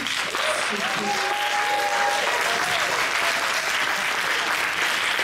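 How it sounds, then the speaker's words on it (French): An audience at an evening political gathering applauds, a sustained, even roar of clapping from a large crowd with a voice briefly heard over it early on. "c'est le moyen le plus facile de se faire applaudir"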